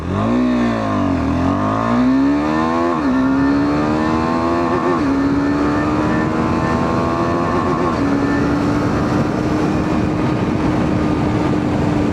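A KTM Adventure 390 motorcycle pulling away in first gear, a loud close engine note climbing steadily in pitch through several revving surges before settling into a sustained drone.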